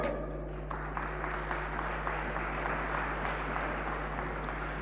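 Faint applause from an audience welcoming the chairman of the ILO governing body to a panel in Geneva, scattered clapping over a constant low electrical hum.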